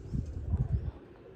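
Pigeons at a home loft give a short run of soft, low cooing pulses, close and fairly quiet, fading after about a second.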